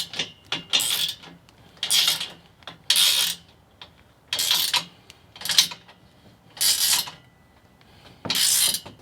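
Wrench or ratchet tightening nuts on an e-bike and motorcycle hitch-mounted carrier, repeated short rasping bursts in a steady rhythm, about eight strokes, close and clear with quiet gaps between.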